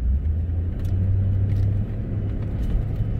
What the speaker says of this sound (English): You got a Key Energy truck passing by you.